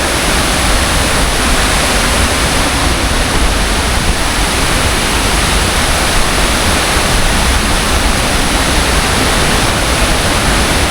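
At Falls 3 of Bega Falls, a waterfall pours with a constant, loud, close roar that stays even and unbroken from start to finish.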